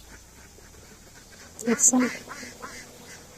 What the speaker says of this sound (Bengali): দেখেন কত হাঁস